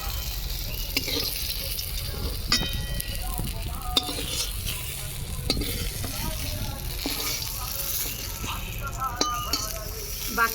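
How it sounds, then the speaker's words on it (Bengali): Eggplant frying in mustard oil in a pan, a steady close sizzle with occasional clinks and scraping stirs throughout, no voices. "বাকি বেগুন বেগুনগুলো একসঙ্গে ভেজে নেব"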